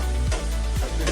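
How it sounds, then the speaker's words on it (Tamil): Vegetables, including eggplant, sautéing in a pan for a fish curry: a loud, constant sizzle broken by two scraping stir strokes, with no voices. "போட்டு வதக்க போகிறாரு அண்ணன்."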